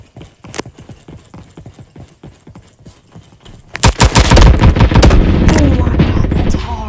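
Gunfire from a Roblox Call of Duty game, with soft rhythmic clopping giving way to loud sustained rapid automatic shooting, dense and close.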